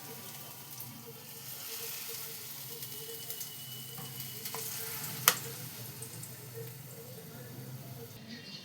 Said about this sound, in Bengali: এইবার আমি এটাকে বড়ার আকারে দিয়ে দেবো গরম তেলটার মধ্যে